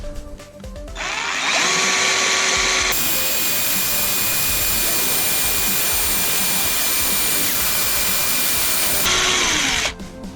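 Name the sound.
power drill drilling into stripped screw on PS3 hard drive tray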